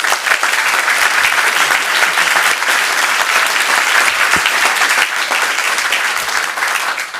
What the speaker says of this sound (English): Give a huge, huge round of applause to Lieutenant Brent Peggotty.